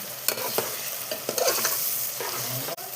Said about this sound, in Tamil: ரெண்டு நிமிஷம் வதங்கட்டும். இஞ்சி பூண்டு பேஸ்ட்டு.